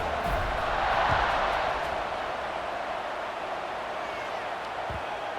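A stadium crowd in the College Football 26 video game roars steadily before a kickoff, a dense, continuous wash of cheering that swells slightly, then holds, with no talk over it.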